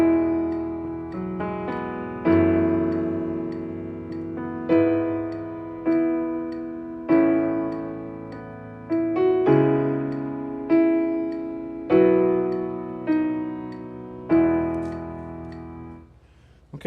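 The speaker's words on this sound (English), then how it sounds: "First, I'm going to play the progression with the bass note." A piano plays a slow chord progression with the bass note included, about a dozen sustained chords struck one after another at an even pace, each ringing and fading before the next, close and alone.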